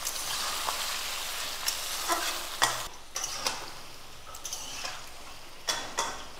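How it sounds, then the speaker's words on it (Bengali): Shaur potatoes fry in hot oil in a rural kitchen, a constant close sizzle punctuated by scraping clicks and knocks as they are stirred. "সাউর আলু দিচ্ছি তেলে।"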